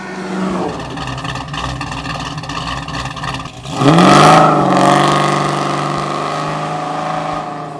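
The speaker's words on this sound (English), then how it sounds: "The Super 10 Muffler series are the smallest, and as you can probably tell, they're also the loudest." A car exhaust drones loudly through a Flowmaster Super 10 performance muffler, then revs sharply with a deep, aggressive roar before settling into a steady, rumbling idle.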